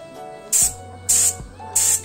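Three loud bursts of spraying water from a three-way coupler fitted to a 12 kg gas tank, each hiss lasting a fraction of a second with short gaps between, close up, over a faint hum.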